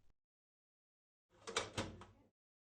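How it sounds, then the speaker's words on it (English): A Pureflow SL home dialysis cabinet door swung shut after the tub is slid in, giving a short cluster of close knocks and a firm latch click, isolated in a quiet room. "Slide in the tub and close the cabinet door, making sure that the tubing isn't pinched."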